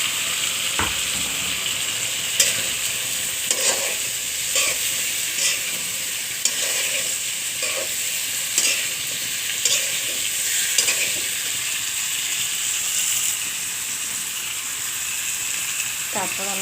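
Carrots and potatoes go into frying spice paste for a drumstick curry, giving a steady loud sizzle with repeated spatula scrapes and stirs against the pan throughout.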